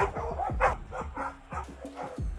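Large dogs bark at a kennel, with a rapid series of close, overlapping barks and yips mixed with higher whimpering and no talking.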